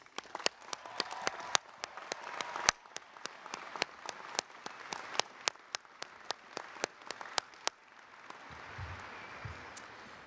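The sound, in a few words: commencement crowd applause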